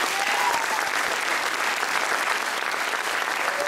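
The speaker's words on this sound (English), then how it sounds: "big round of applause for them as well." A dense, sustained wash of applause from a high school honor band concert audience, loud and even throughout without a break.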